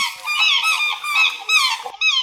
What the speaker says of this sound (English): Swan. Swan.